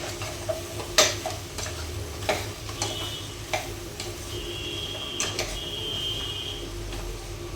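Turmeric being stirred into a mixed vegetable and meat curry with drumsticks in a pan, with scattered scraping and clinking taps of a spoon against the pan over a low sizzle, close by and without speech.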